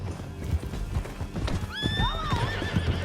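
A horse gallops in Red Dead Redemption 2, its rapid hooves clip-clopping close up, then it gives a loud, rising whinny partway through, with no talking.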